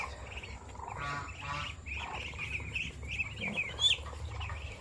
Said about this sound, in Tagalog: Ayan yung manok natin guys na inahin.